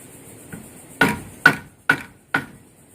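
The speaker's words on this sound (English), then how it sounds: "after hitting the shoe with a hammer" A hammer strikes a rubber glue-on horseshoe on an anvil four times in a steady rhythm, each blow a short, fairly close knock with a slight ring, after a faint earlier tap.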